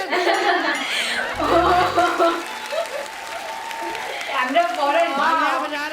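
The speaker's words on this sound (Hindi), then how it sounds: "तालियां बजा रहे हैं" A studio audience on a Hindi comedy talk show bursts into loud applause mixed with chuckles and laughter, swelling in waves over several seconds while voices talk over it.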